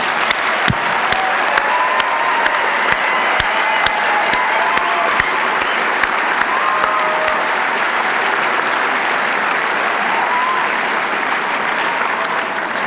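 Sustained audience applause at a 2012 medical school commencement, honoring the graduates: steady dense clapping from a large crowd with a few sharp nearby claps standing out, continuing without talk for the whole stretch.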